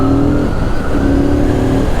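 A Fantic Caballero 700 motorcycle accelerating on a narrow country road, its engine a loud, close, continuous drone with a rising tone throughout.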